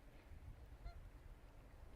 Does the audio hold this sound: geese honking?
yes